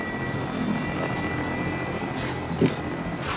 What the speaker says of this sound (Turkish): Nerede helikopterden gitmesin.